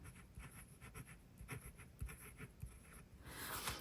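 A Franklin-Christoph Model 02 fountain pen inked with Disco Lemonade scratches across a paper log book in soft, rhythmic strokes, faint and close, ending with a brief rustle of paper.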